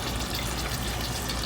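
Water runs steadily into a cooking pot for a Haitian-style herring sauce, a continuous close, full-bodied gush with no pauses and no voices.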